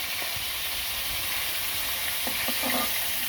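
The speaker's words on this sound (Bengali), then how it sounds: "এই মাছের মাথা মাছের মুড়ো ভাজা হয়ে গেছে" Fish head frying in a pan, a steady close sizzle with faint stirring scrapes, no talking.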